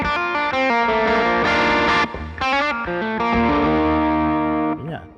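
An electric guitar plays through an amp modeler with compression, ringing chords and sustained notes with distortion and chorus shimmer. The phrases are loud and separated by a couple of short breaks, and no voice is heard.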